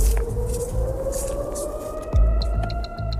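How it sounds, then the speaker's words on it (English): A steady, wavering air raid siren wails over a low rumble of vehicle noise in northern Israel, sustained throughout with a slight bump in loudness partway. "We just heard sirens and calls to seek shelter."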